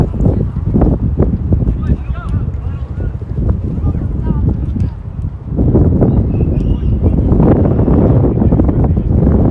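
Steady wind gusts over a soccer field beside the old RFK Stadium before a boys' game against Wilson, a continuous broadband rumble that strengthens in the second half, with voices talking over it.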